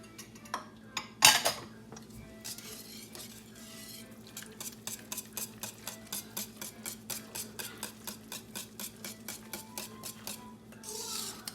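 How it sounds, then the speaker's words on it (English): A whisk beats bacon bits, melted butter and beaten eggs in a bowl, opening with a few clanks, then settling into a fast, even run of close rhythmic clicking strokes. "And I'm just going to use my whisk"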